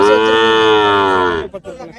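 A cow or calf at the Manapparai cattle market, where Kangeyam bulls and calves are sold, gives one loud, close, sustained moo lasting over a second before it breaks off into faint background noise.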